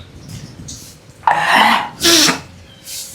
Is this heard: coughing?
yes